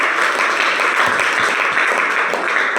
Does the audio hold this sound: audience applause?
yes